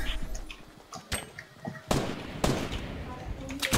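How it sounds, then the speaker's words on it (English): Several grenade blasts from Fortnite gameplay crack out in quick succession, with sharp bursts near the two-second and two-and-a-half-second marks over constant game noise and scattered clicks. "I have a bunch of nades. I'm about to chuck them."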